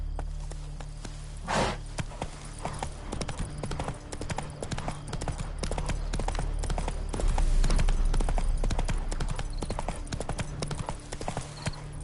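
Hooves of the horse Roach clip-clop steadily on a path in The Witcher 3, a close, even walking rhythm over a low game ambience lasting the whole stretch.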